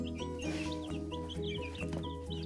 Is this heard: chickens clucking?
yes